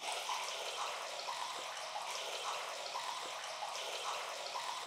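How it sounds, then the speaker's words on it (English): A pump pushes water into a septic pump tank at a house build, giving a steady, even rushing and splashing that runs without a break at moderate level. "now we'll let this pump some water"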